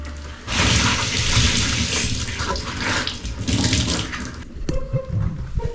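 Water runs steadily from a tap into a liquid laundry detergent pack, a loud, continuous rushing pour that eases off briefly before a small knock and a splashy finish.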